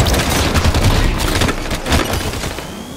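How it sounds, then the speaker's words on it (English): Halo 5 multiplayer grenade blast: a loud, dense burst of explosive booms mixed with rapid gunfire, sustained and close for about three seconds. "Throwing a grenade!"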